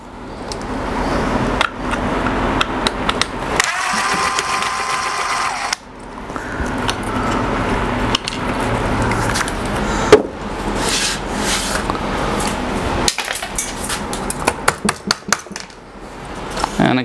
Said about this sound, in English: So there's another screw back here that comes out.